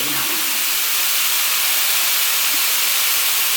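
Close, constant sizzling hiss of scallops and food cooking on a Samoan-style barbecue grill, even and unbroken, with a faint low murmur near the start.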